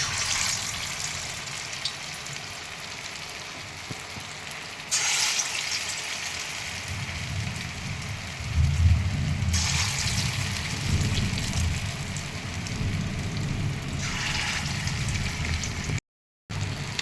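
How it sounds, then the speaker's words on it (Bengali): Banana flower koftas dropped one by one into hot oil in a wok, a steady broadband sizzle and bubbling that swells louder midway as more pieces go in, continuous and close with no talking. "এবারে আমি কোপ্তাগুলো ভাজা শুরু করে দেব"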